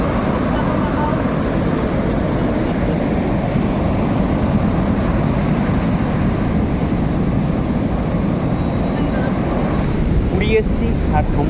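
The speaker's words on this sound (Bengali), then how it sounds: "একটা প্রচুর বড় ঢেউ চলে এসছে একদম ব্যান্ড অবধি পুরো ভিজে গেল" Sea waves on the beach at Puri, a loud, continuous roar of surf with heavy wind buffeting the microphone, steady throughout and close.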